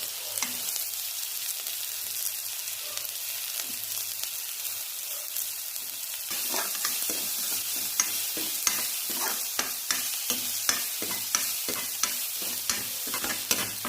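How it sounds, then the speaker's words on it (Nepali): Garlic sizzling in a hot pan while being stirred for mushroom cooking, a steady frying hiss broken by sharp, regular scrapes of a spoon that grow louder and more frequent in the second half, close and alone. "हामीले लसुन पनि एकछिन फ्राई गर्छौँ।"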